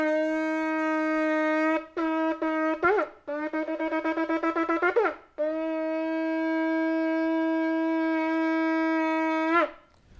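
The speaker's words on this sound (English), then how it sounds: "So that was the sound of the shofar." A ram's horn shofar is blown in a long sustained blast, followed by a few short broken calls, a rapid series of quavering staccato notes and a final long held tone.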